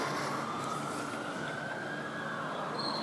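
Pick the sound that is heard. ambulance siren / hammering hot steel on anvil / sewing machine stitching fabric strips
ambulance siren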